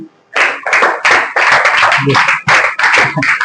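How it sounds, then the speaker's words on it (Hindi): Students in a classroom clap together in a loud, close burst of rapid applause. The burst starts abruptly after a brief pause and runs on with uneven pulses. "ताली बजाओ इनके लिए"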